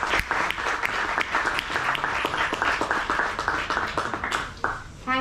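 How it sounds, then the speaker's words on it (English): An audience at a conference plenary session applauds warmly, steady dense clapping from many hands filling the room for several seconds, fairly distant and moderate in level. "Let's put a huge round of applause."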